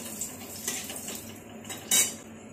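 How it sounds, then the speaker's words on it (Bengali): Five-spice seeds and dried red chillies stirred in a metal pan, with a run of light scraping and clinking of a spoon against the pan, plus one sharper clatter near the end, close and moderately quiet with no talking. "আর এই দিয়ে দিলাম শুকনো লঙ্কা। এবার এটাকে একটু নেড়ে নেব।"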